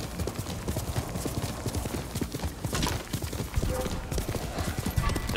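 A horse in Ghost of Tsushima gallops with rapid, steady hoofbeats and neighs, loud and close over a continuous rumble, with a voice talking.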